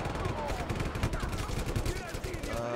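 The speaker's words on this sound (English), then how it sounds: "My cannon still works." A tank cannon in the video game Just Cause 3 fires amid a dense, relentless barrage of loud explosive gunfire that rolls on without pause.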